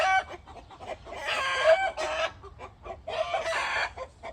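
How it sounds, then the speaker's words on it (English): Chickens clucking and squawking loudly nearby in a garden in irregular bursts, with a rooster-like drawn-out call among them. "That's my chickens. See if they'll quiet down."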